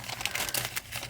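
A paper pack of craft ephemera crinkles and rustles close up in a quick burst of crisp, irregular crackles.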